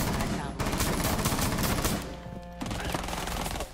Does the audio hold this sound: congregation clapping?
no